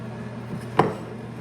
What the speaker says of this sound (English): I'm adding my half a bag of black eyed peas that are rinsed into the pressure cooker.